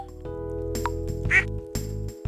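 A griffin goose quacking in the farming game Stardew Valley, a single clear quack over looping game music and a few soft interface clicks.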